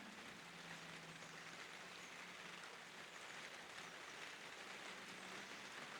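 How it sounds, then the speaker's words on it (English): Rain falls steadily outdoors, a soft, even hiss of drops with no breaks, faint and diffuse throughout. "The rain is truly lovely."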